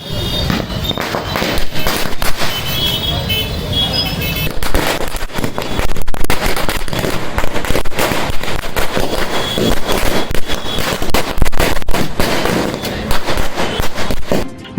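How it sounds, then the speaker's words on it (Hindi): Fireworks and firecrackers burst continuously at a street celebration, a dense, loud barrage of cracks and pops with no break for about fifteen seconds. "वहीं नागरिकों ने जमकर आतिशबाजी कर जश्न"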